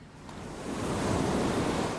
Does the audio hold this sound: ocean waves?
yes